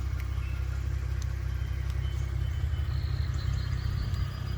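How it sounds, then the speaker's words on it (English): A 2016 Ford Mustang V6 engine idles steadily with a smooth, low hum, constant and close, with faint ticking noises above it. "Engine very smooth, as you can hear."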